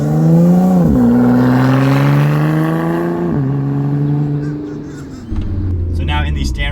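A 2017 Lotus Evora 400 with an automatic transmission accelerates hard, engine rising in pitch through two quick upshifts, then easing off, while a person talks over it.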